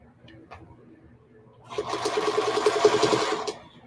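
Sewing machine stitching a feedsack hobo bag, quiet at first, then a steady loud mechanical whir that runs for nearly two seconds before stopping.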